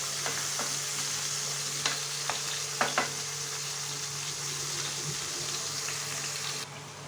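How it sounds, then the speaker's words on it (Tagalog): Chopped tomatoes cook in a hot pan with a soft, even sizzle, interrupted by a few sharp spoon-against-pan clinks as they are stirred. "Ilagay ang kamatis. Hayaan natin siyang maluto."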